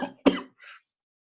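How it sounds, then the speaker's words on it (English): An asthmatic-sounding cough bursts out close to the microphone: a short rough hack followed by a stronger harsh cough and a fainter breathy rasp, with no talk. "I've been attacked with this sort of asthmatic cough. So it did come."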